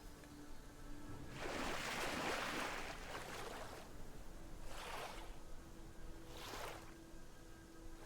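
Splashing water as a character goes for a swim in BitCraft Online, three bursts of sloshing strokes at moderate level, the first longest, over a low steady ambient bed.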